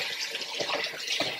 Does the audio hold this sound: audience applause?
no